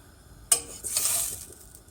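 Butter melting with oil in a pan for Turkish flour soup breaks into a sudden close sizzle, then settles into a steady frying hiss with no one talking.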